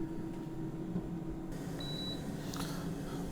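A Cosori TurboBlaze or Instant Vortex Plus air fryer cooking grilled cheese sounds a faint single turn-food notification beep over a low fan hum.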